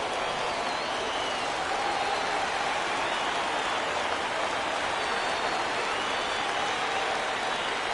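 Baseball stadium crowd rising and cheering on a full 3-2 count, a dense, sustained roar of many voices and clapping that stays loud and steady from start to finish.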